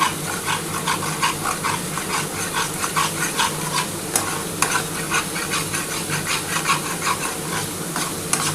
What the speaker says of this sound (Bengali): আগে প্রথমে একটু মশলাটা আগে কষিয়ে নিচ্ছি